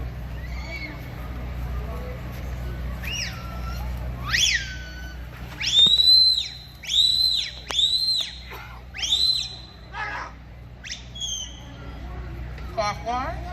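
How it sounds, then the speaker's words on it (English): A series of sharp, rising and falling sheepdog herding whistle commands rings out at a Highland games, several blasts in short patterned bursts, loud and close, with a voice between some of them. "the same commands then become translated to the whistles"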